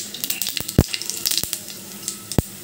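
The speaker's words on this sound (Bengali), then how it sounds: "মাছ ভাজার তেলে আমি একটু তেল দিয়ে দিচ্ছি জিরা" Cumin seeds sizzling in hot oil left over from frying fish, a soft crackle with scattered sharp pops and a couple of louder knocks, close by.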